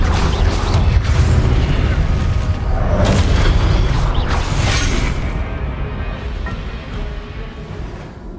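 Confringo blasting spell bursting in Hogwarts Legacy, a loud sustained booming roar with crackling debris and rumble that slowly fades over several seconds, no talking.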